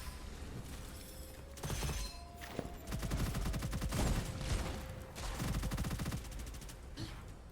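Rapid bursts of automatic gunfire from the shooter game Gunfire Reborn, several volleys of dense, crackling shots with short gaps between them, loud and close throughout.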